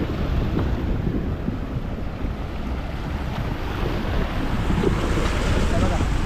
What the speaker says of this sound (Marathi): ते समुद्रासारख्या लाटा तयार झालेल्या आहेत